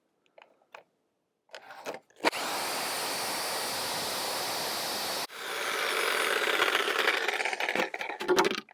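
A power tool cuts through nails embedded in wood: after a few short starts, a loud sustained grinding whine runs for several seconds, breaks off abruptly, then resumes rougher with crunching bites before stopping.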